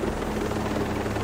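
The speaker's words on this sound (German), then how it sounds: "Bin schon lange kein Heli mehr geflogen" A helicopter flies in a video game, its dense, continuous rotor and engine roar filling the sound evenly and loudly at close range.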